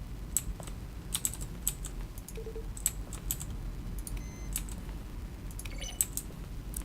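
Button presses in The Stanley Parable, each blending a keyboard keystroke with a synthesized tone, sound as scattered crisp clicks in irregular clusters, some carrying brief faint pitched tones, over a low background hum.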